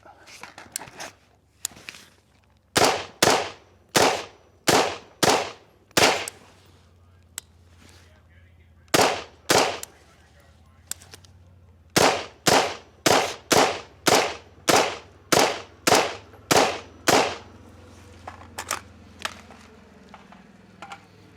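A rifle fired without a suppressor lets off repeated sharp, loud gunshots in quick bursts and spaced runs of about twenty cracks. The shots sound close by, with brief quiet gaps between strings.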